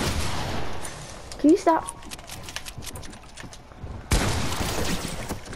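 Fortnite gunfire cracks out in a few short separate bursts, with a louder volley near the end, heard under and between casual chatter from players.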